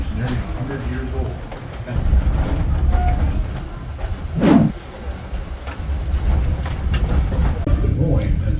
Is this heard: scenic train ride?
yes